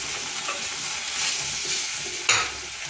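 Steamed tomato mixture for tomato pickle hits hot oil with a loud, bright, continuous sizzle, stirring scrapes throughout and a sharp burst of crackle near the end.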